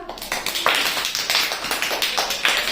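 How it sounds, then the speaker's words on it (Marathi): Students in a classroom applaud group A during a Constitution Day quiz competition, a rhythmic run of claps from several people, fairly close and steady, with no talking. "ए साठी टाळ्या वाजवा"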